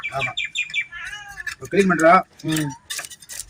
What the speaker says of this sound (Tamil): காக்கா பூனைக்குட்டி எல்லாம் கத்த ஆரம்பிச்சிட்டாங்க